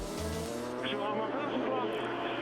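A race car roars past on the Andros Trophy ice circuit at Isola, a loud sustained engine whine shifting pitch, with a commentator talking over it.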